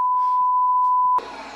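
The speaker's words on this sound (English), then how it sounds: "there's a lot of beeps" A censor beep on a sports talk radio broadcast, one loud steady tone held for about a second before cutting off abruptly into quieter background sound.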